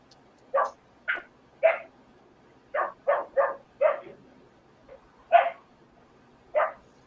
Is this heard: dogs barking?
yes